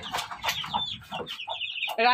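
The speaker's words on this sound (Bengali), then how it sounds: "এই মুরগি কটা হচ্ছে আমার মানে নিজের জন্য রাখা আছে" Backyard chickens kept as future parent stock, clucking in short close bursts with a few higher squawks and a sharper call at the end, over quiet surroundings.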